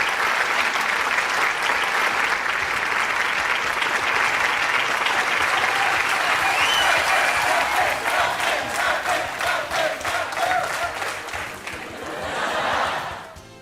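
A studio audience at a televised Gujarati courtroom-style talk show breaks into loud sustained clapping that gradually thins and fades out, with a few cheers and laughs mixed in.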